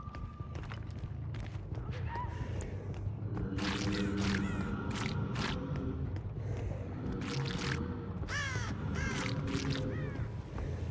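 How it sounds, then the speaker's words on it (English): Seagull cries in the video game Dead by Daylight: a series of sharp, harsh squawks in several short clusters, heard over a steady, rumbling low ambient drone. "It's a goddamn seagull."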